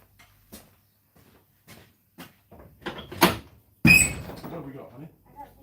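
A door creaks and clatters open partway through a quiet room, preceded by a few soft knocks and bumps, followed by a louder burst of handling noise and movement as someone arrives.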